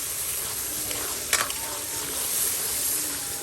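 Spices and pieces of gourd fry in a pan with a steady, soft sizzle, broken by a brief clatter of stirring partway through.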